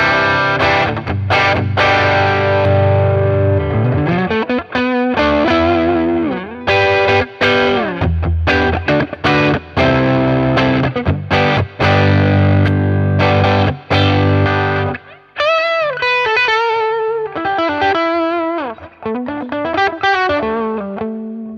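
Electric guitar played through a Tube Screamer Mini overdrive pedal into a Boss Katana 50 MKII amp, with gain all the way down, level up and tone centered: loud, mildly driven chords and riffs, then single-note lines ringing out.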